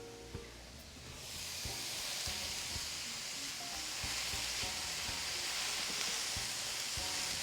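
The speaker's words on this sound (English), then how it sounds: "Now let's pop in those peppers." Sliced peppers hit hot oil in a pan for Pad Thai spring rolls, bursting into a steady, loud sizzle that holds and slightly intensifies after a soft clatter at the start.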